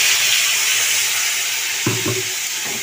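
Potatoes frying with ground cumin and chili powder in a pan, a loud steady hiss of sizzling oil with a brief clatter of stirring near the end, close and without speech.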